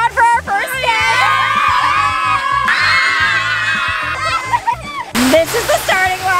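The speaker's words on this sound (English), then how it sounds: "We got a cheering squad for our first day." A cheering squad at a starting line in Jacksonville, Florida gives loud, excited shouting and whooping from several voices, mixed with bursts of crowd noise close by.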